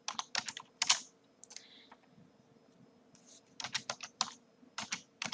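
Bursts of typing on a computer keyboard while entering vocabulary words for a spelling exercise, quick close clicks in two clusters separated by a quieter pause, with no talking.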